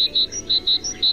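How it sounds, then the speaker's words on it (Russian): Tit bird call: a run of six short, high chirps spaced evenly and repeated at a brisk rhythm, clear and close over a faint background hiss, with no voices. "Это голос синицы."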